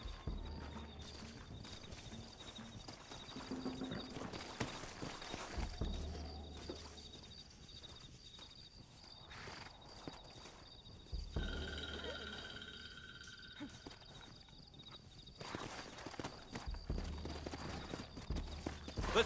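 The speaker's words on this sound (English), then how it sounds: "Looks like Carlos left us some horses" Horses in the video game Red Dead Redemption clop along in rhythmic hoofbeats, moderately faint under frogs croaking and ambient game sound, with no talking.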